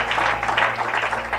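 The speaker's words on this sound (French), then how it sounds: "Une acclamation pour les Mborobo." A church congregation at a Sunday thanksgiving service applauds, a dense, steady patter of many hands clapping together for a short burst, fairly loud and close, with no speech over it.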